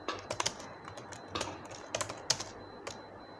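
Keys tapped on a computer keyboard while entering a chmod command, ending with a press of Enter; a few irregular, close, crisp clicks in short bursts with pauses between them, no voices.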